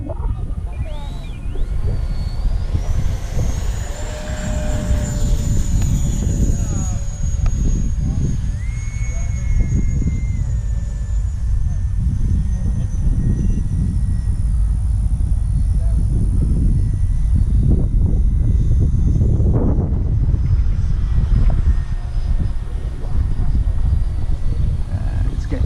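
Loud, constant engine and propeller roar of a Viper light aircraft taking off on a windy day, with wind buffeting and rising tonal whines from the motor throughout, and voices briefly audible over it.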